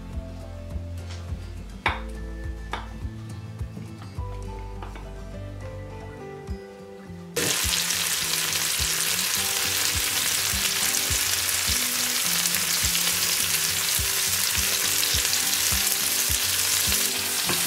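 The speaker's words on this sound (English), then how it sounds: "So our mushrooms are sizzling beautifully in this butter." Mushrooms sizzling in butter, a loud, steady frying hiss that kicks in abruptly after a few clinking pan sounds.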